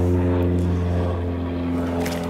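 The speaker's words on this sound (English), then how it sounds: "just gonna wait for this aircraft to go away" A propeller aircraft, an RAF plane, passing overhead outdoors, a steady droning engine hum with strong low tones that holds level throughout without fading, and no talk over it.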